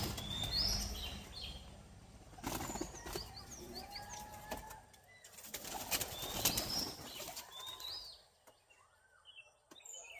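Bursts of pigeon wings flapping close by as pigeons are released from their loft in the morning after days of heavy rain, with brief chirps and scattered bird calls, then a quieter stretch near the end.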